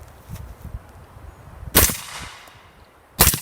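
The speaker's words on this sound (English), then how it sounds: "Do a couple of single shots just to make sure it cycles well." Suppressed 300 Blackout rifle firing single subsonic shots, two sharp cracks about a second and a half apart over low outdoor rumble, no talk.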